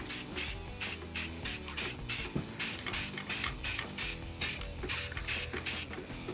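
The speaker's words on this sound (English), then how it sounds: "just spray paint." A phone case is being spray painted orange, with about fifteen short bursts of spray in a steady rhythm. Each hiss is loud and close, and the bursts are separated by brief pauses.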